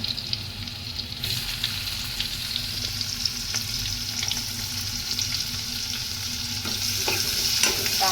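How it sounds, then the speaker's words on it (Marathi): Onion frying in oil with browned garlic in a pan, stirred steadily, for a wet cashew curry; a loud, continuous sizzle with scraping stirs throughout and no talking. "आता याच्यामध्ये आपण कांदा टाकून घेऊया"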